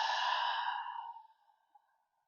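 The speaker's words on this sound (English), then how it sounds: "we'll take a deep breath in through the nose, and then a full exhale through the mouth" A deep, full exhale through the mouth during a slow yoga flow: one long, close breathy rush that fades out over about two seconds into silence.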